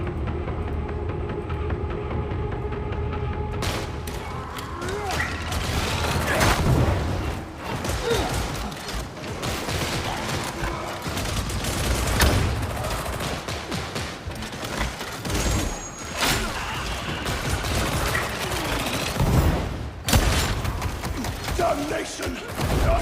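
Gunfire and explosions in the video game Warhammer Darktide: rapid bursts of shots, heavy thuds and booms overlapping densely and loudly throughout, with mechanical clatter and occasional voices mixed in.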